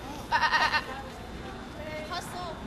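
Sheep bleating at an outdoor herding demonstration: a few short wavering bleats close by, with a fainter call afterward over light background noise.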